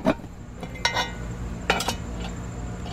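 Metal pieces of a new cast iron Dutch oven clink and knock as a triangular trivet is set inside, three sharp, separate contacts spaced about a second apart over a quiet room.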